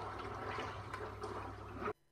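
Liquid poured onto a floor, a faint continuous watery rush and splash lasting about two seconds before cutting off abruptly.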